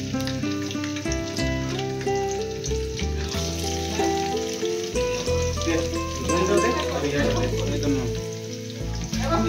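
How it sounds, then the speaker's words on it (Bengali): Onions sizzle steadily in hot oil while potato puris are being made, a continuous frying crackle under music and stirring sounds. "পেঁয়াজ দেওয়া হচ্ছে এবারে"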